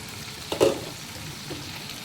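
A fish head sautéing in a pan gives off a soft, steady sizzle, with a louder burst of stirring and scraping near the middle and a fainter scrape toward the end.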